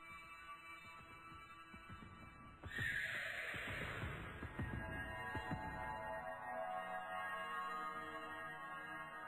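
A horse neighs in the Homestuck video game, a loud whinny bursting in over soft background music and then fading into a lingering, echoing tail with faint hoof-like clatter.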